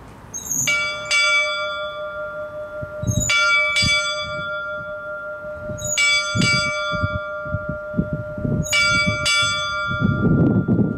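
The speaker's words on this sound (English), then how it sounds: "Big bells would tell the men that that was the time to change from sort of their actual shift" A ship's bell on HMS Trincomalee rings in four evenly spaced double strikes, each clang leaving a bright lingering tone over low rumbling background noise.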